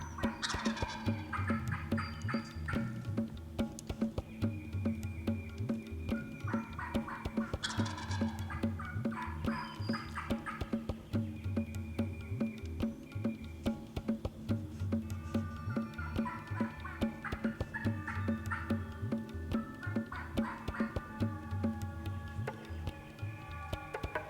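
A wild turkey gobbles repeatedly in spring woods, answering a hunter's mouth call. Several loud, rattling gobbles come over a steady background hiss at a moderate distance.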